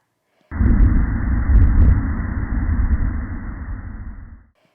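Underwater acoustic recording of the Titan submersible implosion on a dive toward the Titanic, picked up about 900 miles away: a sudden loud, deep, muffled roar that holds for several seconds before fading.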